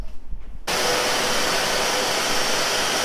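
A Karcher WD 3 vacuum cleaner running in blower mode switches on abruptly after a moment of near quiet, then a loud, steady rushing whoosh of air fills the rest, close and unbroken.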